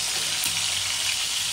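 Pangas fish and shrimp fry in a pan with a steady, close, hissing sizzle that goes on without pause and with no talking.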